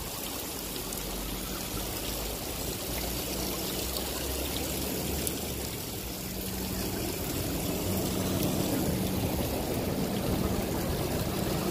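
Water flows and trickles steadily near a beach in Liverpool, a continuous, even wash of sound with no voices.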